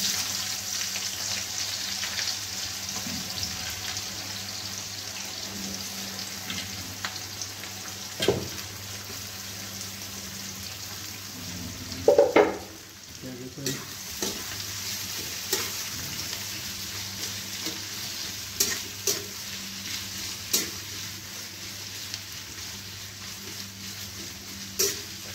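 Onions frying in oil in a home kitchen pan, a steady soft sizzle running throughout with occasional clinks and scrapes of a utensil, one louder clatter midway.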